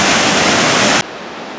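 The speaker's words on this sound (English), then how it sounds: "So we're just about to the bottom of National Creek Falls." National Creek Falls roars as a loud, constant broadband rush of falling water close by, cutting sharply to a much quieter hiss after about a second.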